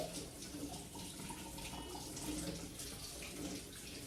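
Kitchen tap running steadily while peppers are rinsed under it, a continuous close splashing stream of water with slight variations as the vegetables move beneath the flow.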